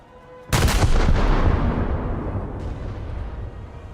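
14-inch naval guns fire in a video game in one heavy booming salvo that bursts out suddenly and then rolls into a long rumbling decay, loud and close, with no talking.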